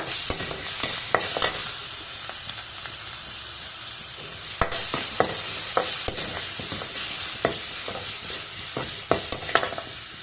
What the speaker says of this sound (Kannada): ಇವಾಗ ಕೊತ್ತಂಬರಿ ಸೊಪ್ಪನ್ನು ಹಾಕು ಲೈಟಾಗಿ ಬಿಸಿ ಮಾಡೋಣ.